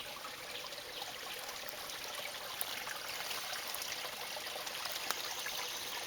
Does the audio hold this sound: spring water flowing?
yes